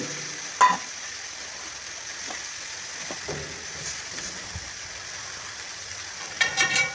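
Chopped bilimbi (orkappuli) in a frying pan, a soft steady sizzle with occasional spatula scrapes and a couple of sharper knocks of stirring, with a burst of clinks at the close.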